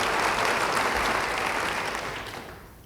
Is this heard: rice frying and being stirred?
no